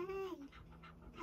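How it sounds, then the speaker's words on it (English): A dog breathing and panting close by, quiet rapid breaths with a brief high whine at the start and end. "we have Birdie in the cut, if you don't hear him breathing already"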